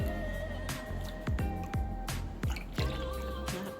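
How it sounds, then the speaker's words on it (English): Tap water fills a bottle in a hotel room, with repeated dripping and splashing impacts in an uneven rhythm, close and fairly loud, with no voices. "Let me fill this water."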